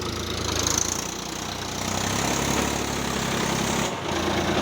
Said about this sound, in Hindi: ट्रैक्टर आसानी से निकाल के संगवारी हो पानी के स्पीड में नहीं दबी से